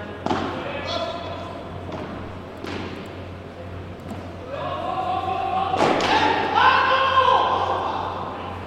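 Padel ball strikes during a rally at a FIP Silver tournament in Narbonne, several sharp thuds spaced across the rally under continuous commentary and a rising crowd murmur.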